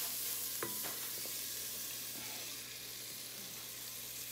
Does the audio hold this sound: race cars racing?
no